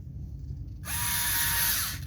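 A power driver whirs as it drives an M3x15 screw into the rear bumper brace of a spec Slash RC car, starting abruptly after a quiet low hum and running steadily and close for over a second.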